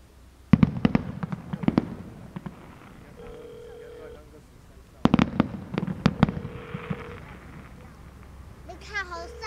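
New Year fireworks show at Donggang watched from a distance, with clusters of sharp booming bursts and crackles separated by quieter gaps, while people talk nearby and a brief electronic tone sounds near the end.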